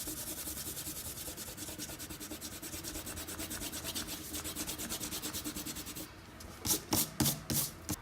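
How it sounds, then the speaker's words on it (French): Rapid scrubbing of an eraser over pencil construction lines on a drawing, a fast, steady close-up rubbing that stops near the end, followed by a few louder paper rustles or taps. "Ok, on peut gommer nos traits de construction."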